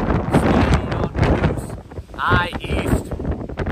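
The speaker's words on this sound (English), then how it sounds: "Oh, let's not mention the high wind." High wind buffeting the microphone on an exposed Appalachian Trail mountain summit in Maine, gusting in rough surges, loud and close, with a person talking through it.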